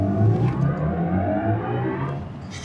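A BMW i7 M70 electric luxury sedan under a hard launch, its synthetic drive sound rising in layered tones for a couple of seconds before easing off, fairly loud and close.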